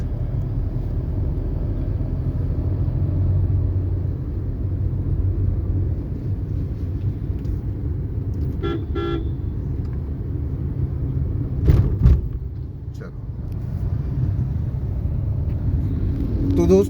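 A car engine drones steadily during a driving lesson in third gear, a low continuous rumble holding near and loud for the whole stretch with a few brief clicks and knocks over it.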